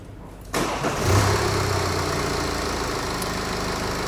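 A car engine cranks and catches abruptly, then settles into a steady, close idle with a low rumble that holds for several seconds during pressure diagnostic testing.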